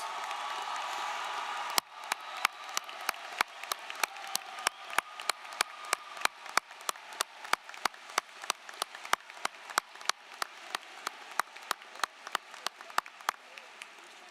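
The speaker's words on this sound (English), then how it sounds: "let's give them a big round of applause" Audience applause for the teachers and staff of Massanutten Technical Center at a 2024 graduation ceremony, opening with a faint hum and then a steady run of sharp individual claps, loud and fairly sparse, heard without talk.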